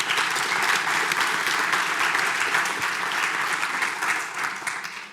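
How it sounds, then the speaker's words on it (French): An audience at a discussion panel claps steadily in a dense, sustained round of applause that stays loud throughout and fades slightly at the end. "Avez-vous une main d'applaudissement"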